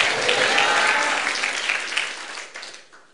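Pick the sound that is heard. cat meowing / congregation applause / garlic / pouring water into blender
congregation applause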